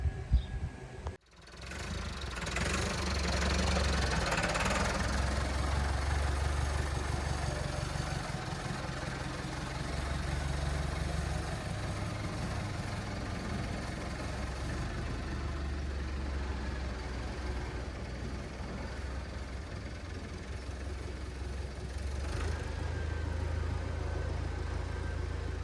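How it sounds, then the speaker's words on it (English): A small farm tractor engine runs steadily near a Heath Super Chaser bale chaser, a continuous low mechanical drone that stays even and close, with no speech. "I'll put it back on the little tractor and then shift it out of the way"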